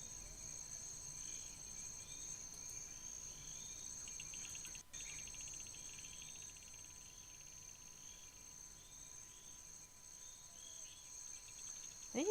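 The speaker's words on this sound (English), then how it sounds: "The sound of the crickets." Crickets chirping in a steady, continuous high trill that sounds distant and faint, with a quiet background hum throughout.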